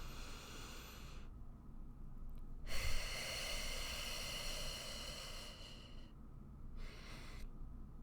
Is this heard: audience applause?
no